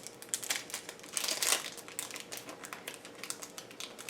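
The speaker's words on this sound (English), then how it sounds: "Let me take it out of the plastic so you don't get any reflection." Close crinkling of thin plastic wrapping as a pen is pulled out of it, a run of dense rustles with a brief louder crackle partway through, no talking.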